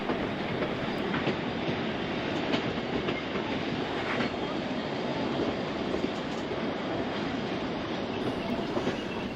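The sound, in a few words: Pichi Richi heritage passenger train running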